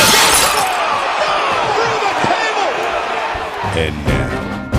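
A glass table shatters loudly at the start, its crash tailing off into scattered tinkling fragments under a busy comedic sound mix, with a thump near the end.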